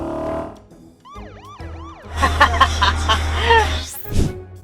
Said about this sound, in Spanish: lo que Speedy González no vio fue la patrulla de policía que iba solo 2 autos detrás de él